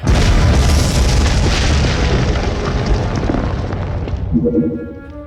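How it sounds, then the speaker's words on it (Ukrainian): A loud, deep boom erupts in a coal mine in a cartoon, rumbling on for several seconds, dense and roaring, before fading out beneath a faint lingering hum. "Це було схоже на вибух."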